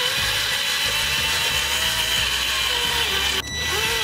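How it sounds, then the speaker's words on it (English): A drill steadily boring out the remains of a bolt in a crankshaft bolt hole, enlarging it for a flywheel; the motor whines continuously and loud, with a brief dip in pitch near the end as the bit grabs. "We'll just keep drilling until we bottom that tape out."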